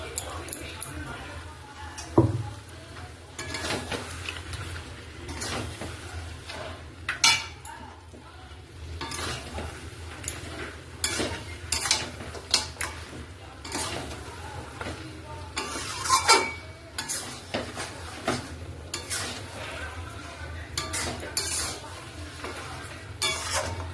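Tomato paste is stirred into a frying mutton curry, a low sizzle under repeated spoon scrapes and clinks against the pot, with talking over much of it.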